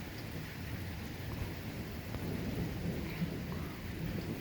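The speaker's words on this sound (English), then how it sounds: "That thunder though." Thunder rolls low and continuous through a rainstorm in Toronto under a tornado warning, with steady rain hiss across the whole stretch and no voices.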